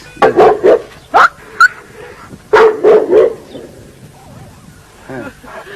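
A Kangal dog barks in short bursts, several sharp barks close by, followed by quieter whimpering and a few softer yips.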